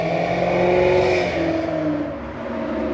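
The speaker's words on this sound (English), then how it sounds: "noisy car." A noisy car revs its engine nearby, a loud, steady mechanical drone with shifting pitch that dips briefly before rising again, with no talk over it.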